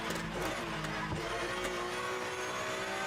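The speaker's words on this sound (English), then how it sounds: "It's a flat 6 engine." A flat-six race car engine in the rFactor 2 racing game, a loud, close, steady high-revving drone with brief gear-change dips early on and continuous engine noise throughout.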